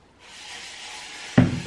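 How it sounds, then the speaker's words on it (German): Spelt grains being ground in a Thermomix, a steady loud grinding rasp heard through a closed door, swelling into a sharper, harsher burst near the end. "weil es extrem laut ist, Dinkelkörner mit dem Thermomix zu schroten"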